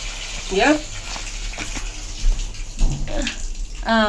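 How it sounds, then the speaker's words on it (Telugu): Water is poured into a dug earthing pit at a house, with a splashing, gushing pour that continues under people talking nearby. "నీళ్ళు పోయి చూపిస్తుండు"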